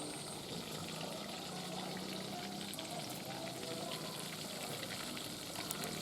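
Jack fish frying in hot oil in a Jamaican home kitchen, a dense steady sizzle and bubbling that keeps on without letup, fairly close, with no voices over it.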